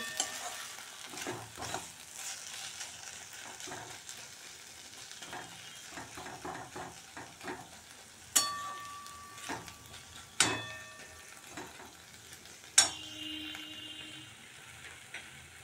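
Taro leaves (kochu shak) cooking down in a pan, with a soft continuous sizzle, repeated scraping stirs and a few sharp clanks of the utensil against the pan, all close and without talk.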